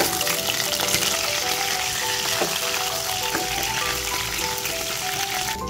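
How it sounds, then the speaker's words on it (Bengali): A fresh batch of rohu fish heads sizzles in a hot pan with an even, constant crackle and a few light stirring knocks, under a faint tonal background. "এবার বাকি মাছের মাথাগুলোকেও আমি ভেজে নেব।"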